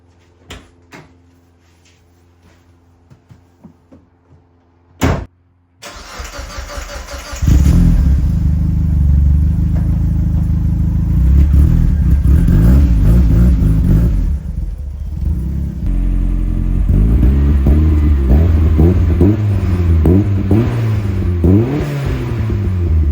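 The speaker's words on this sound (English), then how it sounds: "Pulling out of my driveway now" A turbocharged Mazda Miata starts up after a few clicks and a door thud, then its engine drones loudly and steadily with rising revs and gear changes as it pulls out of a driveway, heard close up.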